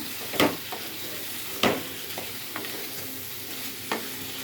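Onions fry in a pan with chili powder and are stirred, giving a steady close sizzle broken by several sharp scraping strokes of the spoon at uneven intervals.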